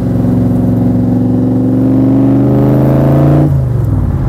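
A Superformance Cobra roadster, a replica of the 1965 Shelby Cobra, revs hard while driving, its loud close engine note climbing steadily in pitch before dropping sharply as the gear changes.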